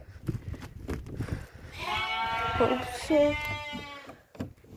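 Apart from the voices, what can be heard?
sheep and lambs bleating in farm shed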